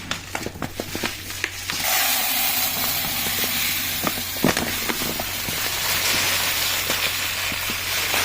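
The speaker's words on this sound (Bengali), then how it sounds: "তো চলো চালটা ঢেলে নিই" Rice poured into a cooking pot, a steady rushing patter of grains that swells loud after a few sharp knocks and rustles, close by and continuing without a break.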